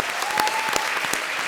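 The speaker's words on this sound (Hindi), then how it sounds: "तो एक बार डेविड धवन के लिए जोरदार तालियां" Studio audience on a Hindi TV comedy show breaking into loud, dense applause, a steady wash of clapping with a few sharper claps standing out, brief and close.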